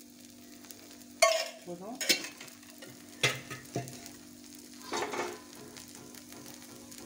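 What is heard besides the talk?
egg dosa sizzling with oil on a pan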